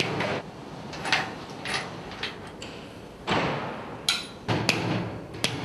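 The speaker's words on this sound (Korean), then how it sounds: "볼트가 잘 들어가지 않을 때는 망치를 사용하는 수밖에 없다." Hammer blows driving bolts into a steel structural frame during high steel erection work, several sharp metallic strikes spaced irregularly over steady background noise.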